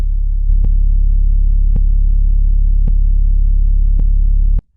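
Bassy vinyl flick loop on a BOSS RC-505 looper, a deep, distorted sustained drone with faint clicks recurring about once a second, loud and steady before cutting off abruptly.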